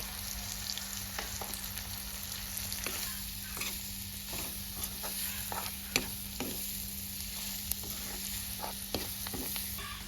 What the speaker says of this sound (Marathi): कांदा टोमॅटो व्यवस्थित परतवून घेतल्यानंतर